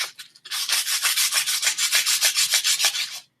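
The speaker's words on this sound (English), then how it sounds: "I have just enough sandpaper to finish the Therese Saxton's wand up right quick" Sandpaper rubbing along a wooden wand with steady, rapid back-and-forth strokes, about twenty quick rasping passes in a regular rhythm, close and clear, with no voices.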